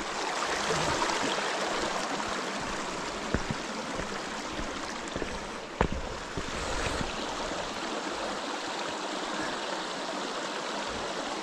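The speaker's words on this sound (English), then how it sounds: "Oh nice, we've got a river crossing" Water flows steadily across a river crossing at night, a broad continuous rush close by with a few brief knocks and splashes, and no voices heard.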